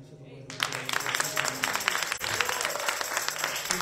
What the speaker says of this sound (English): Come on, clap your hands for the Lord.